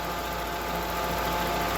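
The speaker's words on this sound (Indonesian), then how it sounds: "mesin berputar idle atau langsam sekitar 800 sampai 950 rpm" Toyota Corolla engine idling with its radiator cooling fan spinning, a steady low hum and whir that stays constant and close, with no speech.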